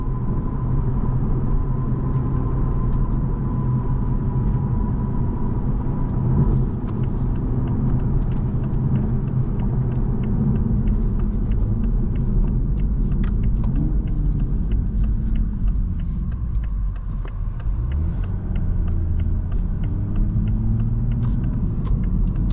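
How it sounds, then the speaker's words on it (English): A 2024 Toyota GR Supra 3.0 with a six-speed manual drones steadily from inside the cabin, with a brief dip and rise in tone at a gear change, under constant road rumble. "So satisfying to roll through these gears in this car."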